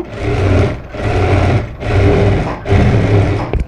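A sewing machine stitches a puff sleeve blouse in four close, loud runs of steady whirring, each separated by a brief pause, with no voices.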